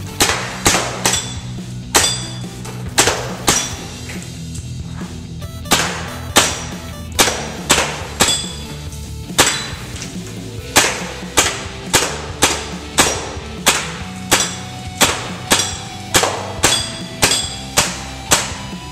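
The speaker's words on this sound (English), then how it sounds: "shooting paintball guns in my basement" Paintball guns fire repeatedly at beer bottles indoors in a basement, a steady series of sharp cracking shots with bright impacts, roughly one per second, loud and close with no talking.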